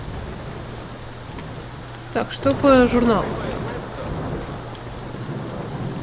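Steady rain hisses through a thunderstorm in the game S.T.A.L.K.E.R.: Shadow of Chernobyl, continuous and even beneath a short burst of talk partway through.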